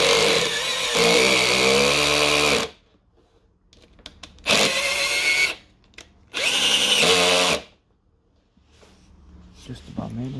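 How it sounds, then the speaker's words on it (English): A power drill bores into wood pieces fitted to the front end of a faded red Subaru Impreza, three loud close whirring bursts separated by pauses, with a voice speaking between them. "The reason why we're doing this, watch, let us drill it."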